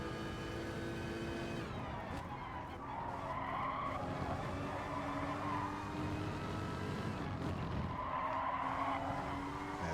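A Porsche race car in a racing video game accelerates hard with a steady, loud engine drone, tires squealing and skidding through corners as the revs rise and dip across gear shifts.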